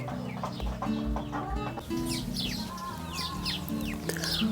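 A bantam hen clucks steadily near her nest in a farmyard coop, with repeated close low clucks and chirps from other birds behind her.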